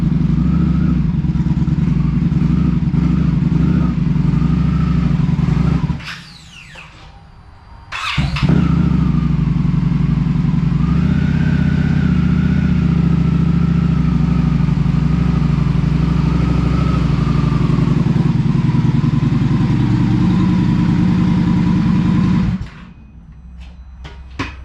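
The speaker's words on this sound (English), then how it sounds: "let's go ahead and get the bike pulled in" A 2025 Indian Scout Bobber motorcycle rumbles loudly and steadily up close as it is moved into a garage, its engine cutting out for a couple of seconds before catching again and idling on, then shutting off near the end.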